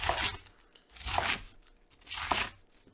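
A knife works into a cabbage core with three separate crunching cuts at an even pace, each one crisp and close. The pauses between them are quiet.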